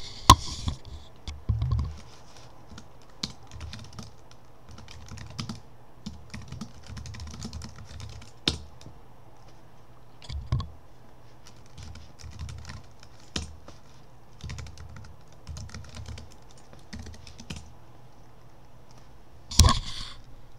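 Someone types on a computer keyboard while entering a Git command on Linux, quick bursts of close, crisp key clicks separated by short pauses and a few heavier taps, with no talking.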